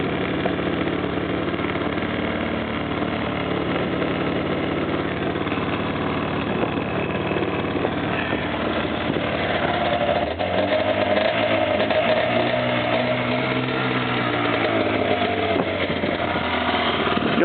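A cold car engine idles steadily after a start in freezing weather following a big storm, then its note rises and wavers as the sticky throttle is revved, loud and close with no talk.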